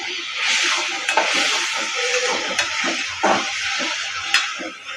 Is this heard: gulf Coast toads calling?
no